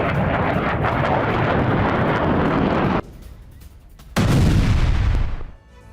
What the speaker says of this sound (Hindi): लेबनान के हौला इलाके में भी आईडीएफ की जमकर बमबारी हो रही।